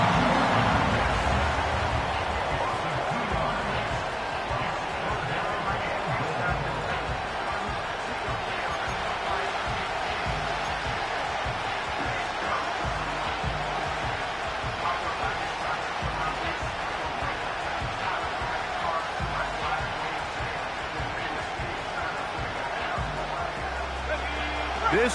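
Steady stadium crowd roar from a Madden football video game before a third-and-goal play, a dense, continuous wash of cheering and noise holding at an even level throughout.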